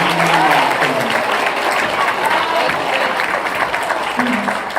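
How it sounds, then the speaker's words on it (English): Audience applause for 7th and 8th graders at a junior high awards ceremony, a full sustained wave of clapping from a large crowd, with brief voices rising over it. "Please give them a round of applause."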